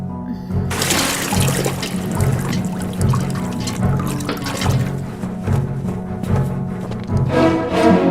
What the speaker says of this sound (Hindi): जाओ इसका मटका पानी से भर दो